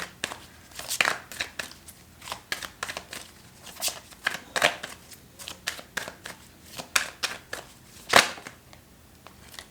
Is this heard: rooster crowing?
no